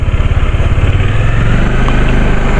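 A motorized tricycle engine runs close by, loud and rhythmic with a fast, pulsing putter that holds steady throughout.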